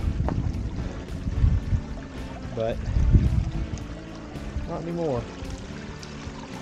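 Water running over a low water crossing on small rural acreage, a soft continuous wash heard beneath someone talking close by.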